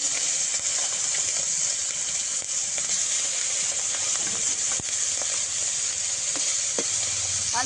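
Fish frying in oil in a pan for a Bengali potol and prawn dish, giving a steady, loud, continuous sizzle with occasional small pops and crackles and no talking.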